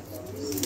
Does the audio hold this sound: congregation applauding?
no